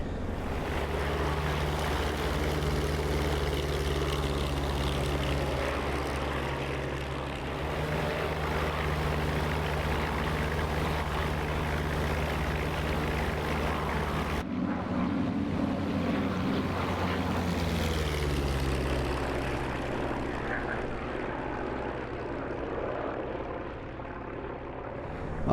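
A P-47D propeller fighter in the flight simulator DCS takes off, its engine droning loud and steady with low tonal hum, the pitch shifting midway and easing as it climbs away.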